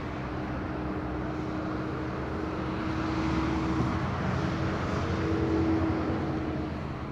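An EasyJet airliner passing at Madeira Island Airport gives a steady, broad engine roar that swells slightly as it goes by, with a faint whining tone layered over the rumble and no voices.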